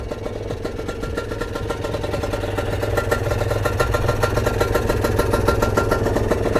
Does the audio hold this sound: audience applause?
no